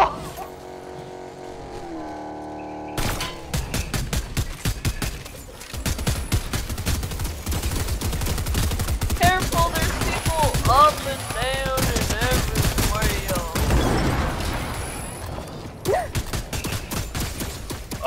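Rapid video game gunfire crackles in dense bursts over engine and vehicle noise, with loud excited players' voices talking over the action throughout.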